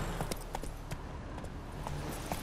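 Rapid hoofbeats clatter in a quick, uneven rhythm as a horse gallops fast in the video game The Witcher 3, moderately close over a low background rumble.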